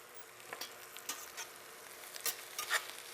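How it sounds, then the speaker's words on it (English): Faint sizzling in a pan as green tops are stir-fried, with a few light scraping and stirring knocks scattered through a quiet frying hiss; no one talks. "I've just stir-fried that for just a few seconds."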